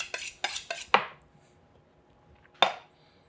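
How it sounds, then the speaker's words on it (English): A knife cuts through tender braised ginger pork belly, giving a quick run of three sharp clinks and scrapes on a plate or board, then a pause and one more distinct clatter, close and clear. "I'm gonna try and get a slice out of it"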